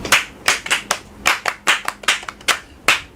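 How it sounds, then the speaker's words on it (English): An audience at a children's radio show claps for a young girl, with about a dozen sharp, distinct hand claps in an uneven rhythm. The claps sound close and loose, like a small group rather than a big crowd. "Please clap for her."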